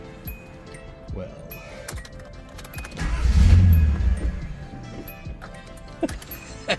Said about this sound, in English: let's start her up and let's see what she sounds like.